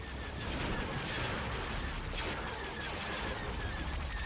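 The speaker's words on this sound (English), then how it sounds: "They've destroyed our torpedo launcher." Dense, rumbling blasts and debris roar as a torpedo launcher is blown apart in a Star Wars: Empire at War space battle, a continuous wash of explosion noise with no pause.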